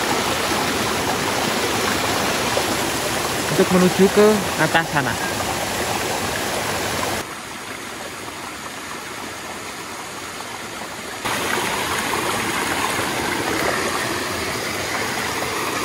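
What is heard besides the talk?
river current flowing under a small bridge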